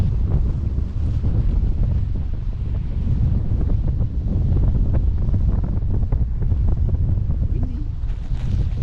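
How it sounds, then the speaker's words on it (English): Strong wind buffeting a boat out at sea, a loud, steady roar of microphone wind noise with water sounds beneath, continuous and close throughout. "Windy."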